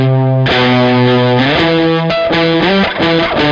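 A distorted electric guitar plays a riff, loud and saturated, the single-note line moving in steady steps with no voices.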